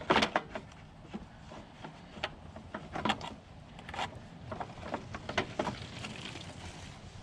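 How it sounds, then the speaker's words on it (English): Plastic engine cover snapped back onto a Troy Bilt push mower, heard as a series of close, light clicks, taps and rattles spread unevenly across the stretch, with no talking. "throw this cover back on real quick."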